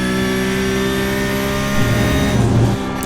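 Porsche Cup race car in the iRacing simulation at Road America, a loud sustained engine drone with steady harmonic whine that climbs as the car regains speed, then briefly eases near the end.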